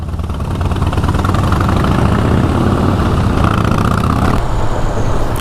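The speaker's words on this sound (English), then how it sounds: "Rev bomb." Motorcycle engine idling steadily and loud, with a rumbling low exhaust note through the whole stretch and a slight shift in tone near the end, close by with no talk.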